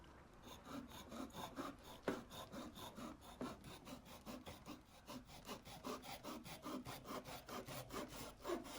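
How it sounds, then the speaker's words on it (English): Fine sandpaper on a hand sanding block rubs back and forth over a small piece of wood, making a steady rhythmic scratching with regular strokes close by, alone without talk. "this is really fine sandpaper on the hand thingy"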